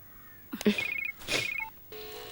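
A telephone rings indoors at home with an incoming call: two short electronic ring bursts separated by a pause, moderately quiet, followed by a brief tone.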